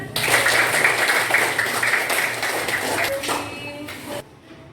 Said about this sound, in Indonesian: Dah, boleh tepuk tangan